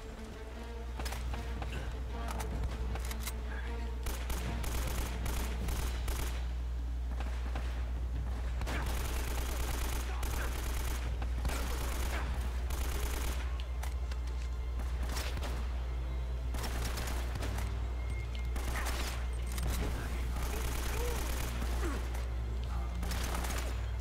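Sustained gunfire in Uncharted: Drake's Fortune, with dense rapid shots and bursts running steadily through a loud game mix of music and effects, with no pauses between the volleys.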